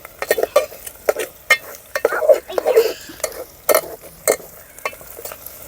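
Chicken curry stirred in a cooking pot in a village setting: a steady series of scraping, clinking strokes of a spoon against metal over a faint sizzle, close and fairly loud.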